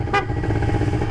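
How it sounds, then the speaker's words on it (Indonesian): A motorcycle horn gives one short, loud toot over the continuous drone of the running bike, close by and with no talk. "Jangan lupa buat nyalain klakson"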